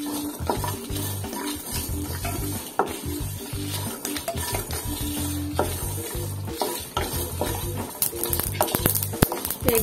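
Cashews frying in a pan while cooking prawns masala curry, a steady loud sizzle running throughout with repeated scraping and stirring clatter from the spatula against the pan.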